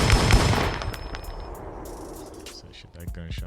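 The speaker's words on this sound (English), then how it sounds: "Play the gunshot now." A gunshot sound effect played during a live online show: a loud, dense burst of rapid blasts at the start that fades into a lingering noisy rumble, with a voice talking near the end.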